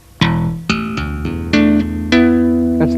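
Electric bass plays a thumb slap on open E followed by double-stop hammer-ons, a quick run of sharp percussive attacks with ringing notes, close and alone.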